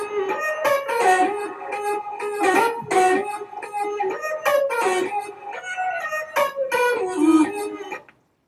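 Layered synthesizer lead lines play together in a bright, busy melodic passage with steady rhythmic pulses, loud and up front, ending abruptly.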